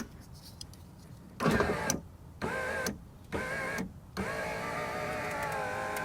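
Toyota Camry rear door power window regulator motor runs in several bursts, a steady whining electric drone that starts, stops and restarts with short gaps, fairly faint and close inside the car.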